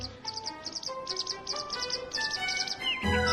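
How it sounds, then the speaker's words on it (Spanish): A songbird sings nearby, rapid repeated high chirping phrases with clear whistled notes, fairly faint and alone. "En el canto de un ave se repiten temas y frases."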